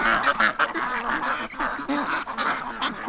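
A crowd of ducks nibbling at hands during a feeding stop quack and honk continuously, close and loud, with overlapping calls and no pause.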